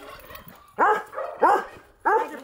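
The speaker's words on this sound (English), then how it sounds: "I believe he's still a puppy." A big puppy at a farm animal sanctuary in Cove, Arkansas barks three times in quick succession, close and loud, each bark a sharp yelping burst over a quiet background.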